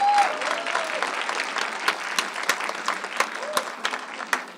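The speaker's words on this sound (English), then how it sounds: "Let's give a round of applause to our fantastic" Audience at a middle school spring showcase concert applauds the student band and string musicians with loud, steady clapping that fills the hall, a few brief tones sounding at the start.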